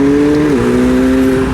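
Loud, close engine drone from a McLaren 720S sports car under way, holding a steady tone that dips briefly as it shifts, then settles into a constant hum with no talking.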